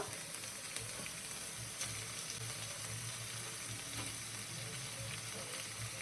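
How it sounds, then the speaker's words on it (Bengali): Chow mein sizzles loudly and steadily in a hot pan as an evening snack, with occasional soft stirring knocks under a constant frying hiss. "এবার চাউমিনটা চলে যাবে এর মধ্যে। চাউমিনটা দিয়ে দেবো।"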